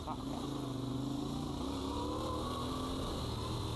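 A heavy 450 lb adventure motorcycle runs on a motocross and enduro track, its engine droning steadily with pitch rising and falling as it rides, while a voice talks over it.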